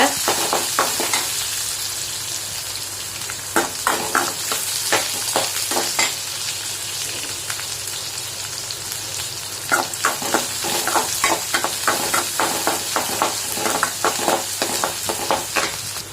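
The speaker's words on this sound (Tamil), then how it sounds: "இப்போ வந்து கட் பண்ணி வச்சுருக்கிற வெங்காயம் போட்டுக்கோங்க போட்டு அதையும் நல்லா வந்து வதக்கி விடுங்க" Chopped onions sauté in an oiled pan for oats upma, a loud continuous sizzle broken by repeated quick spatula scrapes and taps, close up, with no one talking.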